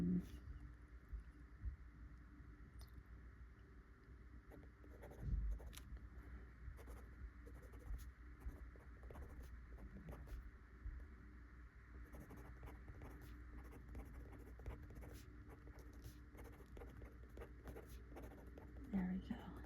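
A Sailor Pro Gear Slim fountain pen nib scratches faintly and steadily across paper in soft close strokes, with quiet speech alongside.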